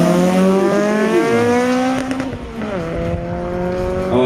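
A rally car from 2000 with a 1.8-litre engine revs hard at close range, its loud, steady harmonic engine note shifting pitch as the throttle rises and dips.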